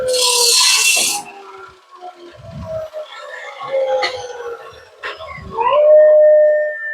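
A dog howls in long wavering tones at a building site outdoors, the howls rising and falling between noisy bursts and distant knocking.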